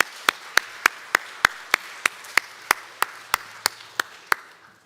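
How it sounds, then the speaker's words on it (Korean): A church congregation at Sunday worship claps for the choir, sounding about sixteen sharp, evenly spaced claps in steady unison rhythm over a soft room hum. "우리 성가대를 향해서 우리 박수 한번 크게 치면 좋겠습니다"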